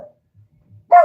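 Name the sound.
dog barking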